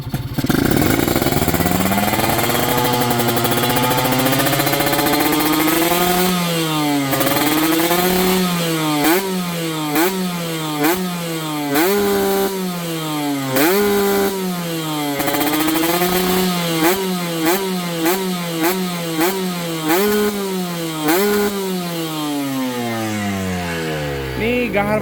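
Motorcycle engine with a PWK 28 carburetor, 32 reamer and Champion spark plug, blipped repeatedly in loud, close revving bursts that rise and fall in rapid succession over a steady rasping idle.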